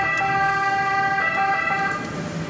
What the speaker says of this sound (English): apart from this constant sound of sirens, which is these guys responding to cases of COVID-19 that need urgent care.